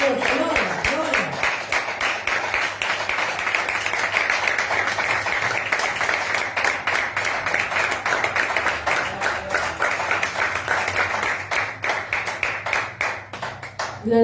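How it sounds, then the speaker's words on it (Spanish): A church congregation claps steadily and hard in praise, a dense continuous wash of hand claps lasting throughout, with voices faintly mixed beneath. "Hágale fuerte las palmas porque es para el Señor."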